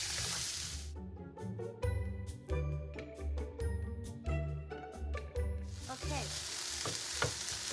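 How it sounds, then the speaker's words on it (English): Vegetables for a stuffed pepper pasta casserole sizzle in a frying pan while a utensil stirs and clinks against it, with steady frying noise and bright repeated metallic taps close by. "we're just gonna stir these around and let them cook a little bit on their own"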